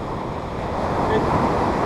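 Pacific Ocean surf breaking on a beach makes a steady, loud broadband roar with some wind buffeting the microphone throughout.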